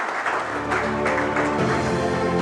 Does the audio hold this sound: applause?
yes